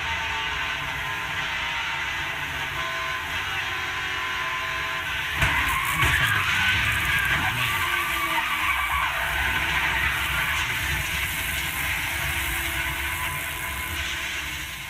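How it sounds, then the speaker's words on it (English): Onboard a NASCAR race car crashing at about 190 mph: steady engine and road roar, then a sudden burst of scraping and grinding impact noise around the middle that fades into a sustained rushing drone. "That's what it's like to crash at 190 miles an hour."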